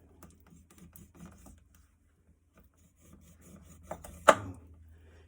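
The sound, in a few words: knife cutting around chicken drumstick bone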